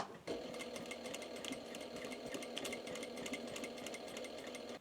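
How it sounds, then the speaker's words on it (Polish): A sewing machine stitching in a zipper runs at a steady, fast mechanical whir with a rapid needle rattle. It starts abruptly after a brief pause and continues close and moderately loud to the end. "wyjmę szpilkę i przeszyję cały zamek na długości"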